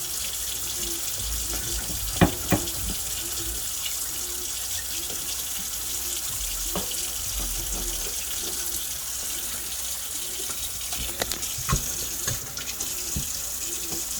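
Cold tap water runs steadily into a sink while vegetables are washed, a constant close hiss of flowing water with occasional soft knocks and clinks.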